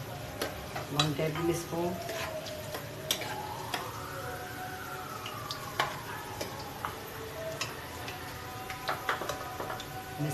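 Cumin seeds drop into a hot pan and sizzle with scattered crackles and pops, while someone speaks over the frying and a utensil scrapes and clinks now and then.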